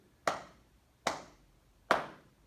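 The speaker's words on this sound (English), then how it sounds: "What I'm clapping is a steady beat" Three sharp hand claps spaced evenly about 0.8 seconds apart, keeping a steady beat, each crisp and close with a short decaying tail and nothing else in between.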